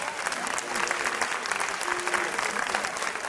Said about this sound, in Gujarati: એકવાર જોરદાર તાળીઓ દીધી કૃષ્ણ નામે